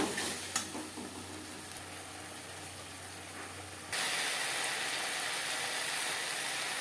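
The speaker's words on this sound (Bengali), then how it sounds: "পেঁয়াজ ভেজে নেব" Sliced onions drop into hot oil with salt and turmeric for a rui fish jhal. After a few seconds of low, quiet hum, a loud, even sizzle bursts in and holds steady, with no voices.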